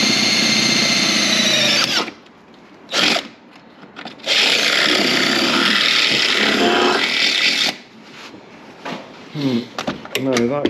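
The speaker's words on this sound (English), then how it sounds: "What I'm going to do now is drill the hole for this" A power drill whines loudly and close, boring in two long bursts with a short pause between, followed by clattering handling noises.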